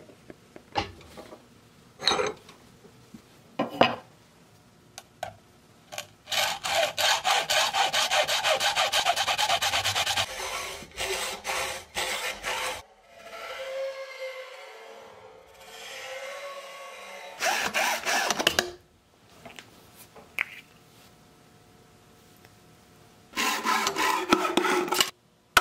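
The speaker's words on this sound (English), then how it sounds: "Then you want to cut the top off right here under the flange." A saw cuts through a plastic juice bottle just below the neck flange with the lid on, rapid rasping strokes in bursts separated by pauses and scattered taps, close and fairly loud, no voices.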